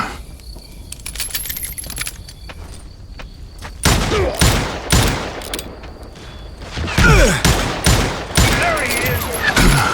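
Rapid bursts of gunfire from the Western shooter game Call of Juarez Gunslinger, loud sharp shots clustered in volleys, some quieter rattling earlier, then heavy repeated blasts in the second half.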